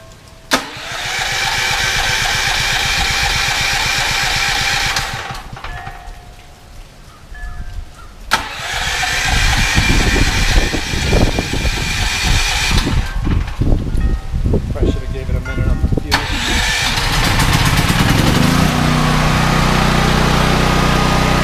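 A portable generator is cranked and started during Hurricane Nicole, with loud starter bursts and breaks before the engine catches and settles into a steady running drone. Storm wind and rain sit underneath, and brief speech is present.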